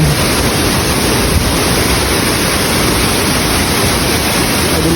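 Steady roar of rushing water from Tagbibinta Falls in Maragusan, a dense, constant wash of sound that stays loud and even throughout with no voices.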